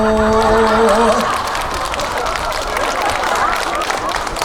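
A crowd at an outdoor cherry blossom festival performance claps in a dense, noisy burst, mixed with a loud voice over the sound system and crowd babble.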